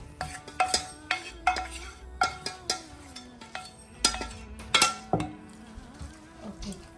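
A spoon stirring and scraping gongura pulihora, tamarind rice with sorrel leaves, in a metal pan: a steady run of sharp clinks and scrapes at an uneven rhythm, close and fairly loud, with no talk.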